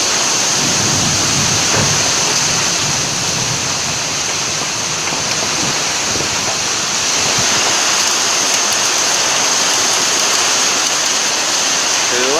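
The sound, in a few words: summer storm with heavy rain and thunder in Sakon Nakhon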